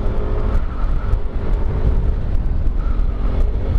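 A Yamaha Nmax scooter fitted with upgraded CVT springs and a re-grooved clutch bell accelerates close to the microphone, its engine droning steadily with rough, buffeting wind noise throughout.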